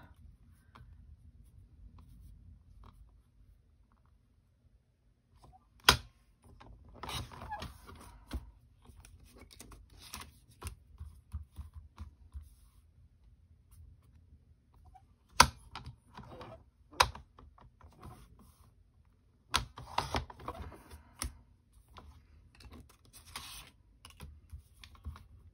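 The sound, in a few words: paper being cut down for cardmaking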